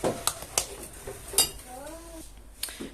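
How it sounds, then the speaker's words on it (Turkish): Lokma dessert batter being stirred in a bowl, with a few sharp clinks of a utensil against the bowl among soft mixing sounds, close by; a voice speaks briefly at one point. "Şöyle karıştırıp kıvamına bakacağız"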